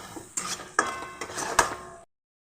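A spatula clinks and scrapes against a pan as food is mixed with salt and sugar, making a handful of separate metallic taps at close range with no talking.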